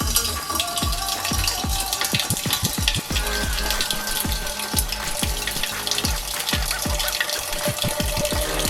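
Porter homebrew being transferred into a 6-gallon keg, a steady near liquid rush and splashing with a fast rhythmic gurgling pulse running throughout.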